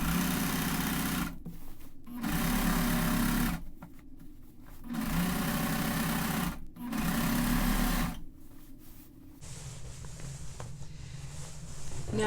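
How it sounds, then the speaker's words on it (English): Serger overlocker trimming excess fabric off a long-sleeve shirt being made sleeveless, running in loud steady bursts separated by short pauses, then stopping while faint handling noise continues. "I am going to get my serger out and I'm going to serge off all that excess fabric"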